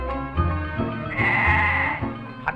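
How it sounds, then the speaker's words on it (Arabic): A sheep bleats loudly and close by in one long quavering cry, preceded and followed by short grunting bleats. "ده خروف مش معزه."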